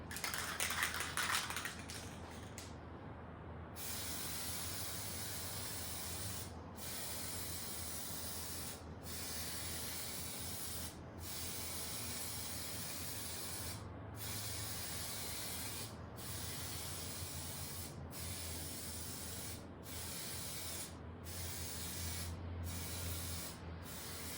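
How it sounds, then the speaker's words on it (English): Long continuous hiss of an aerosol lacquer spray can, broken by brief regular pauses every couple of seconds as the nozzle is released and pressed again. "keep it, the spray going off the other side"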